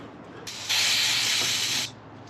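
Cleaner sprayed from a trigger bottle onto a rag while working on a 5.7 HEMI engine, one sustained hissing spray burst of about a second, close and loud, with a softer lead-in.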